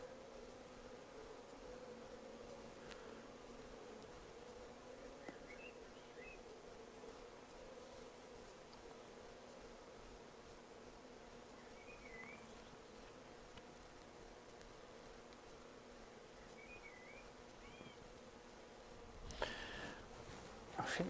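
Honeybees buzz around an open hive during an inspection, a faint, steady, even drone that holds throughout, with a brief rustling knock near the end.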